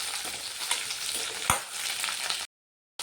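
Curry leaves and small shallots fry in a pan of oil for tomato chutney, giving an even sizzle with a stirring clank near the middle, then a short silence.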